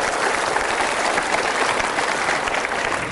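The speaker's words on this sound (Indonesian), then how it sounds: "Kita berikan tepuk tangan dulu." A studio audience applauds on a talk show, a dense, loud and continuous wall of clapping that carries on throughout without a break.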